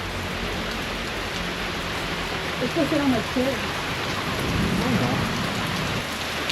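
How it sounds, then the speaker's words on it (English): Steady, dense rain hiss fills the whole stretch, with a person speaking briefly partway through. "it's pouring really hard out"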